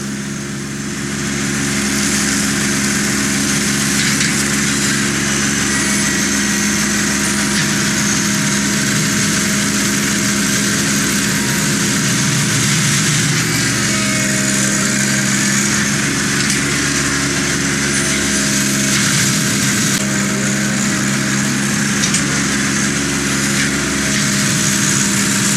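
A tractor engine runs at a steady, loud drone while backblading gravel to smooth the surface for a parking pad. The rumble holds constant throughout, with no voices over it.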